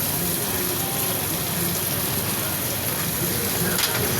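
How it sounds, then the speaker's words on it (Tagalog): Heavy rain pours steadily for hours, a dense, unbroken hiss of water falling on surfaces that stays loud and even throughout, with no other clear sounds on top. "Grabe yung ulan."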